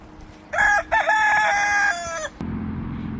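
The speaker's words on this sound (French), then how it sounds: "Ça, c'est le coq." A rooster crows one long, loud, clear call near a backyard chicken run, followed by low background noise.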